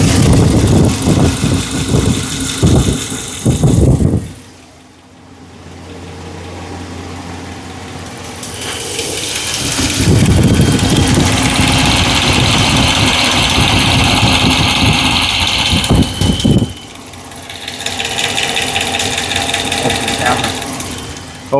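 A rebuilt 5.7-liter V8 in a 2009 Ram idles close up with a rapid ticking, the engine noise dropping out briefly twice, and someone speaks over parts of it.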